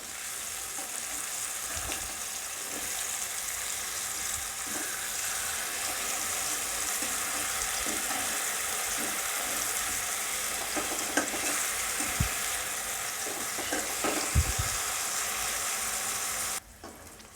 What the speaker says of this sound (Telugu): ఒకవైపు ఫ్రై అయ్యాక రెండు వైపు టర్న్ చేసుకోవాలి.